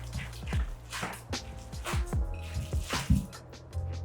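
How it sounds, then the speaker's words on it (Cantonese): Chicken meat filling for bao being mixed and kneaded by hand, giving a run of wet, squishy slaps and squelches in an irregular rhythm, close and moderately loud, with no talk. "然後放入所有肉料，將佢撈勻，盡量搞到佢起膠"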